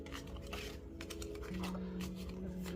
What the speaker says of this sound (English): So overhand shuffle,